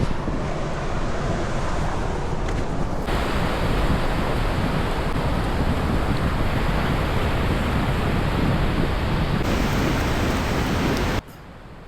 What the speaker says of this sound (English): The wind's still going.